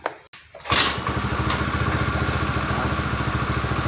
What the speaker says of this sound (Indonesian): Kita akan nyalakan dulu motornya.